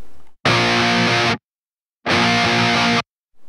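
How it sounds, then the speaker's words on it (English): Two sustained, heavily distorted electric guitar chords ring out through an amp plugin's fat and asymmetric low-tone setting, each cut off abruptly with silence between. "it also has the option of fat and asim. What it does is giving the guitars a bit more of low tones"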